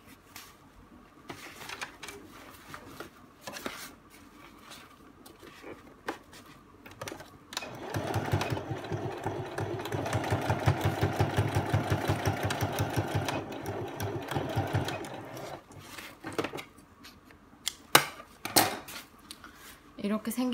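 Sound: sewing machine stitching a zipper pouch seam

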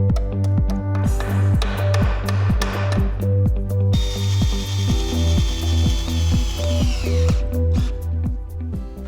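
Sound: tightening self-tapping screws into a metal frame

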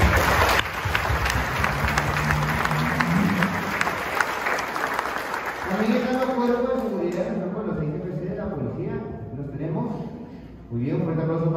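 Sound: congregation applause in church

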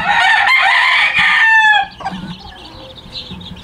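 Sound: chickens clucking and rooster crowing

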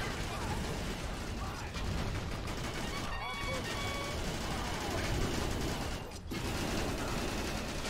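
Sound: machine gun fire in Battalion Wars video game

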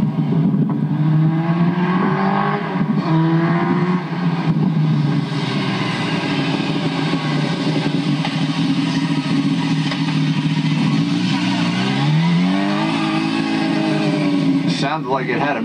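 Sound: new motorcycle engine revving on the street

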